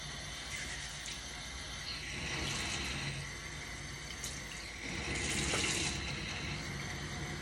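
Running water pours steadily for a quick rinse, a continuous broadband splash that swells louder twice, around the middle and again near the end, with no talking.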